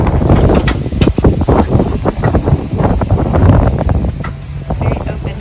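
Strong gusts buffet the microphone in an open, exposed spot, making heavy, uneven rumbling that surges and dips throughout with no clear speech.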